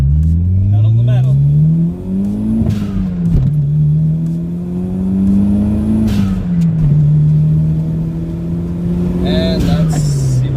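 A Toyota MR2 pulls hard at full throttle, its engine note climbing through the gears with brief dips at each shift, loud and close from inside the car, while a driver talks over it.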